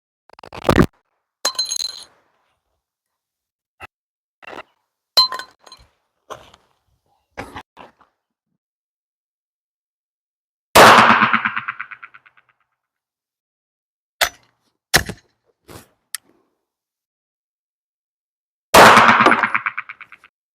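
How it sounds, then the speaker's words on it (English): A pistol barrel carrying a mounted red dot sight is hit repeatedly during a torture test, sharp loud metallic clanks in scattered single and double strikes, with two heavier ringing bangs that decay slowly. "So I like to beat the barrel, not only just for, good effects, but it's kind of fun."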